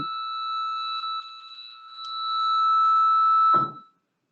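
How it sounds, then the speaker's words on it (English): A fire alarm sounds inside a building with a steady, piercing electronic tone that holds for several seconds, then a short burst of noise as it stops abruptly. "I think we might have a fire alarm coming"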